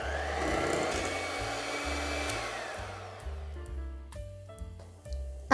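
Electric mixer whirring through red velvet cake batter with buttermilk, a loud steady drone that shifts pitch and speed in stepped changes toward the end.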